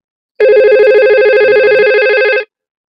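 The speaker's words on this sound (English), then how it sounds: "So the ring is coming on this one." A simulated IP phone in Cisco Packet Tracer rings with a steady warbling electronic tone that lasts about two seconds. It is loud and clean, with no voices.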